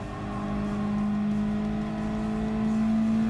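A race car in a racing game accelerates hard out of a corner on a sprint track, its engine note climbing in a steady, loud whine that holds close and alone, with no speech.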